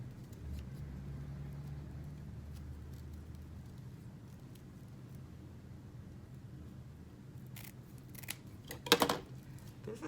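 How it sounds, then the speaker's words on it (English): Scissors snip through deco mesh while a patriotic ruffle wreath is being made, a few quiet, brief cuts near the end over faint background hum and a passing car rumble. "I started cutting the wrong way."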